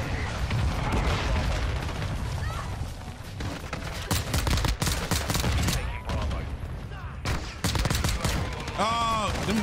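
Incendiary rounds fire in Modern Warfare 2, with dense, continuous bursts of gunfire and impacts filling the scene while a player talks over the noise.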